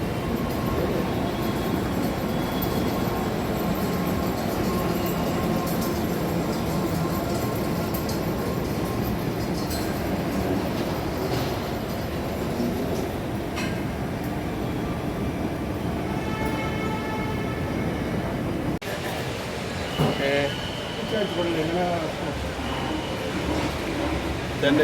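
Chennai Metro train running, a steady broadband rumble and rolling noise sustained throughout with a brief break near the end; voices murmur faintly underneath.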